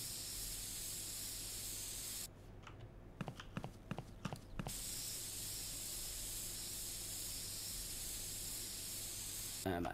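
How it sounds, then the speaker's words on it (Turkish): A spray can in a Toilet Simulator video game, producing a continuous bright hiss that drops out briefly for a few sharp clicks, then resumes at full strength. "hemen şöyle bir sprey yapayım."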